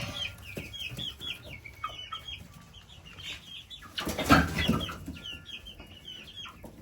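Chickens cluck close by in a steady stream of short calls, joined by a brief loud burst of flapping wings near the middle.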